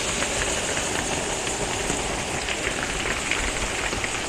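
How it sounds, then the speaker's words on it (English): Steady rain from a Carolina thunderstorm pours down in a dense, even hiss that stays loud and close throughout, with no thunder. "Now it's just rain."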